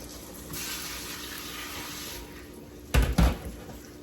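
Tap water running over freshly picked plantain leaves being washed, a soft steady splash with two brief louder sloshes near the end, close by and with no talking.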